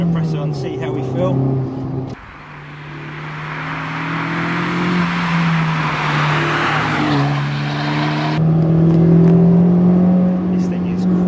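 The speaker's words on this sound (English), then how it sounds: "This thing is quick, really quick, and it revs out, so unusual for a turbo engine." A 2015 Honda Civic Type R with its 310 PS turbocharged engine is driven hard on twisty roads in Austria. The engine drones and revs steadily under wind and road noise from inside the cabin, with a brief lift-off near the start.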